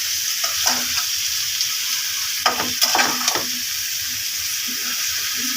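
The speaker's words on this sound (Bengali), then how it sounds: "একটু নাড়াচাড়া করে দিব চুলার আঁচটা কমিয়ে নিব" Food frying in a pan with chepa shutki dried fish and vegetable stems, a steady sizzle broken by a few sharp scrapes and clinks of stirring.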